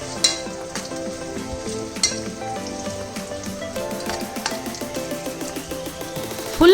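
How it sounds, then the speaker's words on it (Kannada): Onions frying in a pan for mushroom biryani, a steady close sizzle with occasional stirring clatters and sharper spoon knocks, continuing loudly without any talk. "ಈ ಆನಿಯನ್ನ ಡಾರ್ಕ್ ಬ್ರೌನ್ ಬರೋವರೆಗೂ ಫ್ರೈ ಮಾಡಿಕೊಂಡು ನಾನು ಸಪ್ರೇಟಾಗಿ ಎತ್ತಿಟ್ಕೋತೀನಿ"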